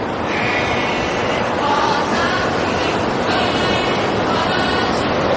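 Rough surf at a beach on Edisto Island, a steady loud wash of breaking waves with wind blowing across the microphone, continuous throughout with no voices.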